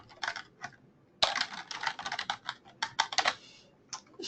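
Typing on a computer keyboard up close: rapid bursts of crisp key clicks with brief pauses, fairly quiet, with no voices.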